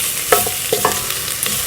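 Garlic sizzles loudly in a pot over medium-low heat, a dense steady hiss with a few sharp knocks and scrapes of a utensil stirring it.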